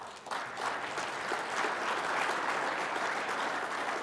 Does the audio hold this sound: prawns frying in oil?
no